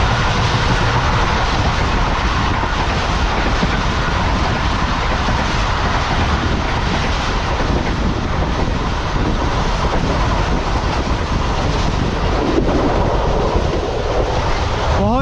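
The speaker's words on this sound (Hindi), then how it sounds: "जिक्र एक्सप्रेस को ओवरटेक कर रहे हैं हम लोग।" Pakistan Express running between Multan and Karachi while overtaking another express train: a steady loud roar of wheels and rushing wind, with faint clickety-clack heard from aboard for the whole stretch, and no voices.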